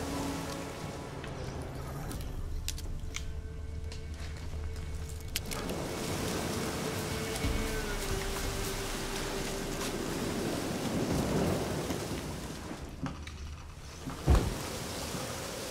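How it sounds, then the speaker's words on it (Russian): Steady rain falls in the video game The Witcher 3, a dense, even hiss of drops with a low wind-like rumble underneath, continuous throughout with one brief louder knock near the end. "Может, дождь собирается."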